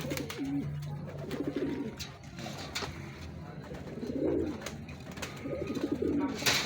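Pigeons coo in soft, rolling bursts at close range, repeating several times over a faint background.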